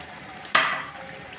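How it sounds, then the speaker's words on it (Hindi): Boiled mutton tipped into a hot kadai lets out a sudden loud sizzle that fades to a steady frying hiss, close up with no voices. "वो अब मैंने कढ़ाई में गोश्त डाल दिया है।"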